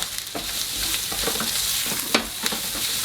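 Onions frying in a pan with cumin and smoked paprika being stirred in, giving a steady close sizzle broken by intermittent scraping strokes of the spoon, with no voices.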